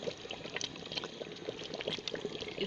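Besan and water mixture poured into a simmering pot of beef nihari, a steady liquid pour and bubbling with soft splashy spatters, continuous and close, no talking.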